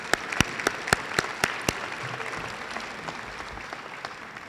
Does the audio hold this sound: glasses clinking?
no